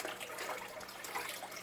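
Water is poured to refill a small nano reef aquarium, a continuous close splashing and gurgling stream with no talk over it.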